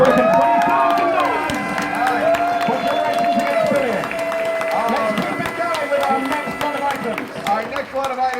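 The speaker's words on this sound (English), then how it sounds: "give yourself a huge round of applause, folks" A crowd at a charity auction during a pony fan convention claps and cheers after a fundraising milestone, with scattered claps and whoops running throughout and voices talking over the noise.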